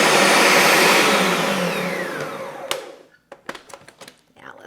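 A food processor whirs loudly and steadily, blending basil pesto for freezing, then stops, leaving a few clattering knocks and handling noises.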